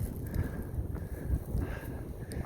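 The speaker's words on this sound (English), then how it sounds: "It's getting pretty cool out. Windy and cool." Steady low rumbling wind buffeting on a ridge along the Appalachian Trail, constant and fairly loud, with gusts rising and falling throughout and no voices.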